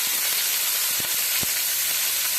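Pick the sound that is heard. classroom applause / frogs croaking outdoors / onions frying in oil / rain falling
onions frying in oil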